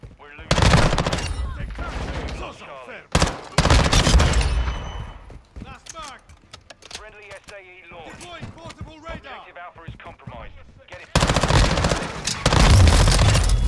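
Loud automatic bursts from the Bas P submachine gun in Modern Warfare 2, separated by quieter gaps where someone talks, with a long final stretch of sustained fire.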